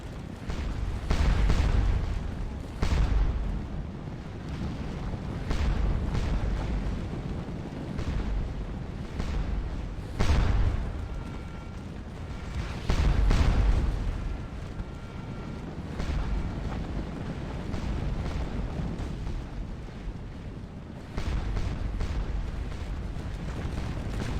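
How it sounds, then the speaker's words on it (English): Artillery fire in a Waterloo battle video game: repeated deep booming cannon blasts roll out over a continuous rumbling, windy battlefield din, with several louder volleys spaced irregularly across the whole stretch. "I fired a third of my ammunition at this artillery standoff"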